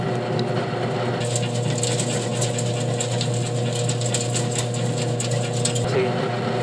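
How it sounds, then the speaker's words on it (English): Remote-controlled actuator running on a household appliance, a continuous loud mechanical whir with ratcheting, gear-like clicks that holds steady throughout, close to the listener. "we're just going to turn on the actuator here."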